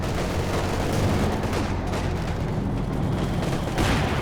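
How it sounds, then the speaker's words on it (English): Heavy anti-tank gun hits and battle explosions in Company of Heroes 2, a dense, continuous roar of gunfire and blasts from twin AT guns and tanks like a Panzer IV, loud throughout with no pauses. "Couple big hits in there from the double AT guns"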